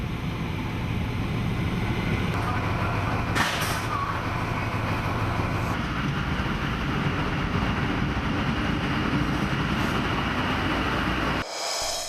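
An XPT passenger train near Coffs Harbour gives a loud, steady rumble that holds for about eleven seconds, then cuts off abruptly near the end.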